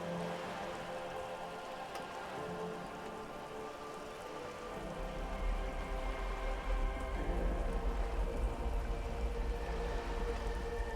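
Steady rain falling in Disco Elysium, a dense continuous hiss of drops on surfaces that thickens partway through with a low rumble underneath, no voices.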